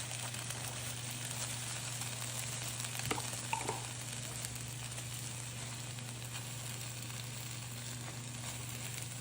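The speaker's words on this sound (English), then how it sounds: "We're gonna add our pasta." Pasta tossed into a pan of sauce with meatballs sizzles loudly and steadily up close, with a brief stir or clatter partway through.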